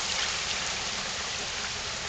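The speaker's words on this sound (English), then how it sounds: "it is hailing and raining" Hail and rain fall steadily during Alabama spring storm weather, a dense, even hiss of drops on surfaces that stays constant and fairly soft throughout, with no voices.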